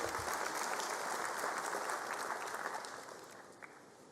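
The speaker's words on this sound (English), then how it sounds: "Let's give them a big hand of applause." Audience applause at the 2022 matric results announcement by the Department of Education: steady, dense clapping from a large crowd, loud throughout, then gradually thinning and fading toward the end, with no talk over it.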